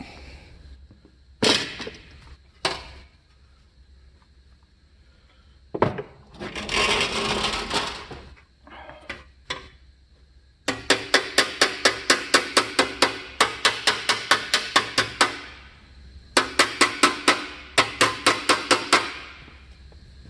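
An aluminum armor breastplate is hammered against a hard edge: a few scattered blows and a scraping shuffle, then long runs of rapid, evenly spaced metallic strikes, loud and close, with short pauses between bursts.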